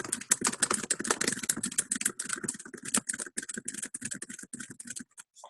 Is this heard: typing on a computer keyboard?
yes